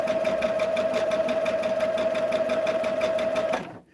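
A sewing machine stitches a quilt at regular stitch length, a fast, even mechanical whirring with a steady pitched hum running for several seconds before stopping abruptly.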